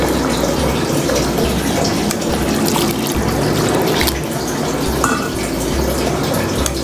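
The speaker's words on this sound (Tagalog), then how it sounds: "Lalagyan ko na siya ng malamig na tubig." Cold water pours steadily into a pot of cooked sago, a close, continuous splashing gush with a gurgling fill that runs unbroken throughout.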